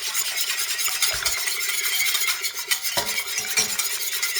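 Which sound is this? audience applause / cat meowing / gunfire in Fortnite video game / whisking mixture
whisking mixture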